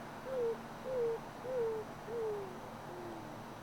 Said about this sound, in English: the Roadrunner makes its more typical cooing sound